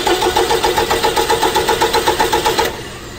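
A car engine cranks over on its starter in a steady rapid pulsing rhythm for about two and a half seconds during a starting system voltage drop test, then stops without catching.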